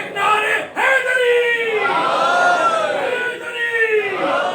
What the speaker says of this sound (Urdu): ایک نعرے حیدری